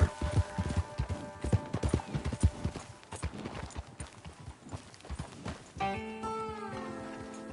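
Horse hooves clip-clop in steady rhythm across ground in the video game Red Dead Redemption 2, close and distinct, followed near the end by a tonal in-game sound.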